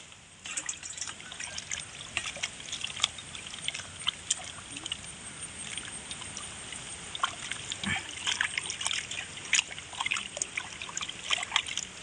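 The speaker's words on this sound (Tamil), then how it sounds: "இனி இறச்சியே கழுவோம்" Running water trickles and splashes continuously while chicken meat is rinsed under it, steady and close, with small clattering handling sounds over the flow.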